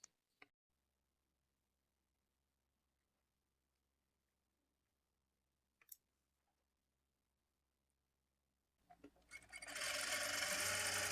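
A sewing machine stitches the side seam of a blouse, starting after near-silence and a few light clicks, then running as a steady, dense whirring buzz up close.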